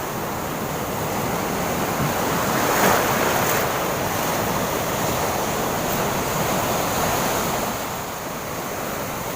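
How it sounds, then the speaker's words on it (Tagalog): Large ocean waves crash and roar continuously against the shore, a loud, broad wash of surf mixed with wind buffeting the microphone, swelling slightly midway and easing near the end. "Ang lalaki ng alon."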